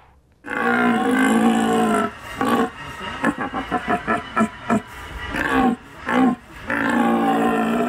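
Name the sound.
red deer rutting bellow imitated with wooden call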